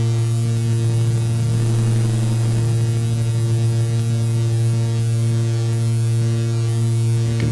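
A Behringer Grind synthesizer holds a steady, loud, buzzy pulse-wave drone, its tone shifting gently under LFO modulation and playing alone without a break.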